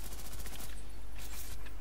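Rapid rifle fire in the Ghost in the Shell video game, a dense burst of repeated shots that runs steadily through the whole moment, loud and close.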